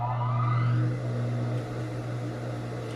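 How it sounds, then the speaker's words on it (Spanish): Sewing machine stitching along the outer edge of the fabric on a tailored jacket's front pocket flap, a steady close motor hum with a continuous whirring drone throughout and no talk. "Voy a coser desde la parte de afuera, o sea, desde la orilla de la tela."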